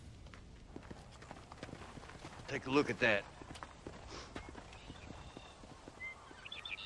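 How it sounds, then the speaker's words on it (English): Horses trot in the video game Red Dead Redemption, a quiet, steady clip-clop of hooves under a voice, rising to a louder, busier burst of hoofbeats partway through before settling back to a faint patter. "More horses. I hate fucking horses!"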